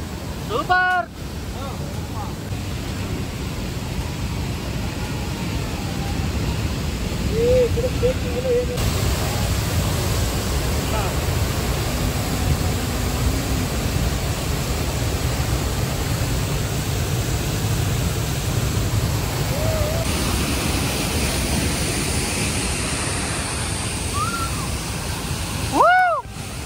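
Hogenakkal waterfalls roar as a continuous, dense rush of falling water heard from a boat near the falls, steady and loud, with faint voices surfacing now and then.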